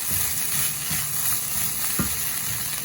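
Vegetable fried rice sizzling steadily in a pan, with a spatula stirring and scraping in repeated strokes over the constant hiss, close and fairly loud, no talking.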